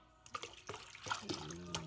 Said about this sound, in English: Put a little water on you.